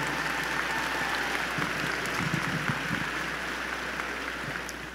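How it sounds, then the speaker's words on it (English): A large commencement crowd claps for a graduate, Trey Quinn, at a spring ceremony, producing a steady, dense wash of applause at even loudness throughout, heard from a distance. "let's give a round of applause for Trey Quinn."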